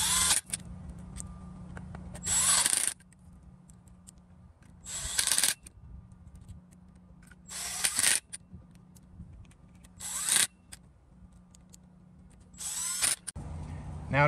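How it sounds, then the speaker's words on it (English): Power tool driving bolts into a TMR custom drive flange on a wheel hub, several short loud whirring bursts separated by quiet pauses and faint clinks of metal parts. "you're going to install your bolts into your flange."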